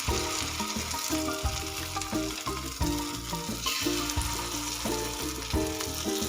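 Fasting appe batter frying in an appe pan, giving a steady close sizzle throughout under background music.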